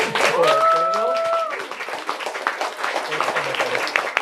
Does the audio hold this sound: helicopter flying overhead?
no